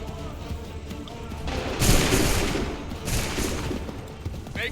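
Musket volley fire in the video game Assassin's Creed 3, a broad crackling fusillade of many shots bursting out together, followed by a second ragged volley under battlefield noise, with no voices over it.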